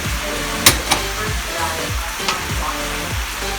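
Chopped potato frying in a pan for egg rolls, a steady close sizzle with a couple of sharp utensil clinks early on and soft stirring scrapes, fairly loud with no talk.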